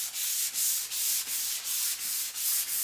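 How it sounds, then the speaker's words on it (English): Rhythmic back-and-forth rubbing of a sanding sponge on a painted surface, steady strokes about every half second, close and moderately loud. "I'm going to be using this sanding sponge from Surf Prep Sander"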